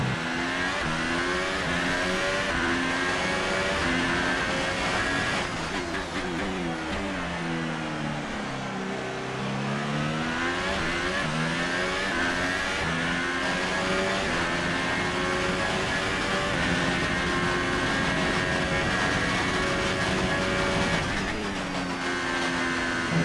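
A Formula 1 race car engine in the F1 2018 game, screaming at full throttle during qualifying at Suzuka, with loud, continuous high-revving tones that rise and fall through gear changes from start to finish.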